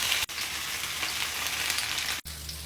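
Boneless milkfish (bangus) fries in a pan, giving a loud, continuous crackling sizzle close by with a couple of brief breaks in the hiss, no voices over it.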